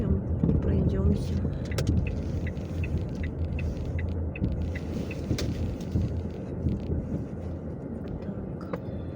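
A car being parked, a steady low rumble of the engine and tyres heard from inside the cabin, with occasional clicks and light knocks, close and continuous.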